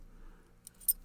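A bunch of keys jangles briefly and close, a couple of light metallic clinks in quick succession after a quiet moment, near a locked Unity Scramble motorcycle.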